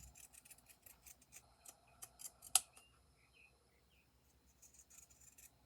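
Scissors snipping into fabric along a curved edge while sewing a memory bear, a quick run of small crisp cuts with one sharper snip, faint and close in a quiet room.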